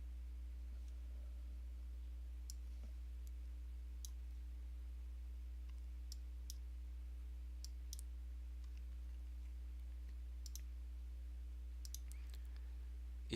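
Sharp mouse clicks while exporting a sheet in a software app, about a dozen spaced and irregular, crisp and close but soft over a steady electrical hum.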